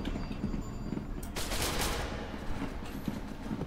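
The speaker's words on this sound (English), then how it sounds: "Just shoot this elevator." Gunfire rattles in the video game SCP Secret Lab as a burst of shots hits an elevator, dense and fairly loud over a noisy background.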